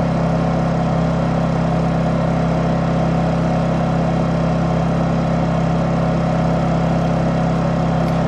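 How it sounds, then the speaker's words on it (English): Honda EU2200i inverter generator running at a steady, loud hum, close by and unchanging throughout with no voices. "So now that the generator is running, it's going to count down."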